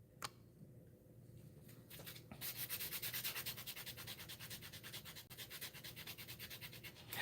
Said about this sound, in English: I'm smoothing it out so it don't look lumpy when I paint it.